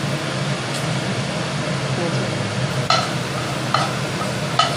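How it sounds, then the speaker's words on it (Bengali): Spices tempering in hot mustard oil in a wok give a steady, close sizzle, with a few sharper crackles near the end. "ফোড়ন ভাজা হচ্ছে"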